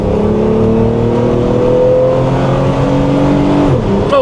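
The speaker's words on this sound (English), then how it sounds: "All right, let's just do like a quick 0 to 60." A modded Chrysler Prowler accelerates hard from a standstill toward 60 mph, its engine note climbing steadily and loud for about four seconds before a sharp gear change near the end, close-up from inside the car with no talk.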